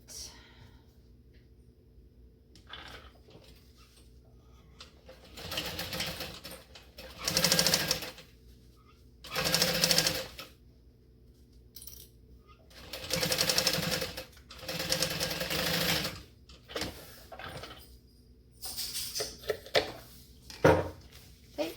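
A sewing machine stitches a Dayna Pack bag from Lindshandmade in several loud, close bursts of rapid motor-driven stitching, with quiet pauses between runs and brief handling noises.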